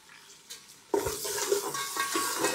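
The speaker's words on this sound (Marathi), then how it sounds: "आता हे आपण चांगलं कांदा भाजून घेतो" Chopped onion roasting in a pan for Vidarbha-style wheat flour upma: quiet at first, then a sudden steady sizzle with soft stirring scrapes and knocks, close and moderately loud.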